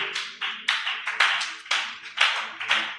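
A church congregation clapping together to acclaim the Lord, crisp close rhythmic hand claps in quick uneven bursts, loud and alone without talk.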